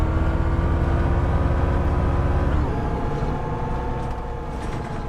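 Tram engine in City Transport Simulator, a steady low buzzing hum with tonal drones, loud and continuous, shifting to a slightly lower pitch midway with faint higher whine on top.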